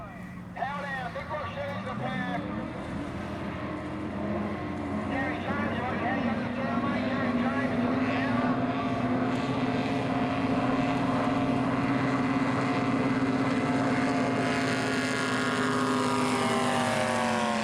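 Drag boats, both inboard and outboard, race across the water in a steady, rising engine whine that holds loud throughout, with a voice talking over it.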